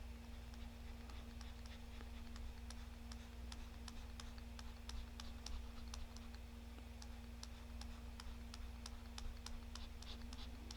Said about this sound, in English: let's say this, we draw like a square down here